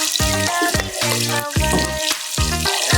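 Chopsuey ingredients fry in a pan until golden brown, giving a steady loud sizzle with rhythmic scraping strokes and sharp metallic tones repeating about every half second.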